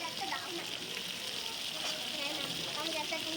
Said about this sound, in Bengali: সব চিংড়ি মাছ ভাজা কিন্তু এখানে হয়ে গেছে।